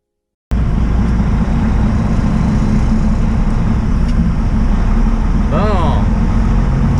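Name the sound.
truck driving on the road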